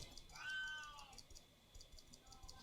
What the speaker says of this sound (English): the whining cat in the background is not being tortured